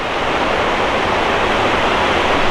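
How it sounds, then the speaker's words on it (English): Mystic Falls, a waterfall in Yellowstone, roars as a steady, loud broadband rush of falling water with no pauses, close by and heard alone without any voices. "So we made it out to Mystic Falls."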